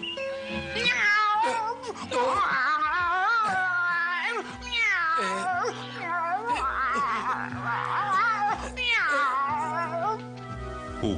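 Puss in Boots, a cartoon cat in a Portuguese-language fairy-tale adaptation, meows repeatedly in loud, wavering, expressive cries over music, with giggling and voices mixed in.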